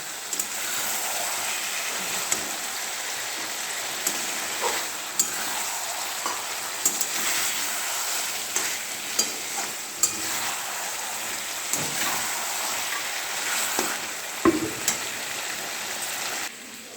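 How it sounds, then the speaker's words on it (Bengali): Chicken frying in a pan for biryani: a steady, close sizzle with crackling bursts and occasional stirring scrapes across the whole stretch, no talk. "মাংস, চিকেনটা ফ্রাই হয়ে এসছে।"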